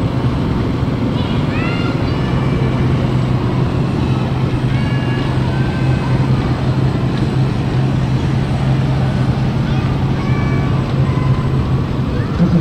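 An antique Worthington G tractor runs at a tractor show with a steady, loud low drone, while people talk over it and other engine noise hums in the background.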